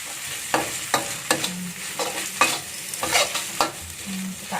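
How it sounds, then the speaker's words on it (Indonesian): Lemongrass, galangal, ginger, bay leaves, lime leaves, star anise and cloves fry in a pan for soto Betawi, with a soft sizzle under repeated scraping stirs of a spoon, close and clear with no talking. "Kita aduk sampai harum."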